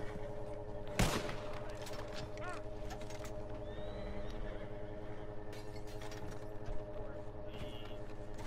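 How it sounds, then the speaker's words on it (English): A single sharp gunshot cracks loudly near the start in Red Dead Redemption 2, followed by fainter distant shots over a steady droning background. "Oh! Gunshots! Gunshots!"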